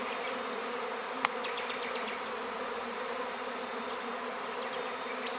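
A dense, steady buzz rises from a small pile of honeybees gathered around their queen outdoors near a ute, droning evenly and close, broken once by a single sharp click.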